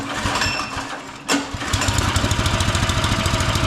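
A small engine sputters, catches with a sharp pop and then settles into a steady, rapid chugging run, loud and close by with no talk over it.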